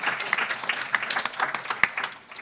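Conference audience giving a short round of applause, scattered individual claps from a modest crowd, moderately close and fading out after about two seconds.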